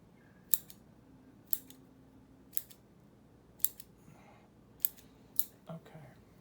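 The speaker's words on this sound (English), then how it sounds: "This is the job for stainless scissors." Sharp stainless steel scissor snips at uneven intervals while repotting a Japanese black pine bonsai, about seven quick metallic cuts, close and clear over a quiet room.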